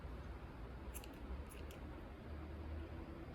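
Scissors cutting macrame cord, giving two faint quick snips over a steady low background hum.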